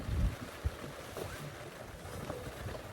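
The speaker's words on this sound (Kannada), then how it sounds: "ಗಾಳಿ ಎರಡು ಕಡೆಯಿಂದ ರುಬ್ತಾ ಇದೆ" Wind sweeps across an open campsite beside a camper van during an overlanding trip in India, a low, faint rumble with occasional gusts buffeting the microphone and no voices.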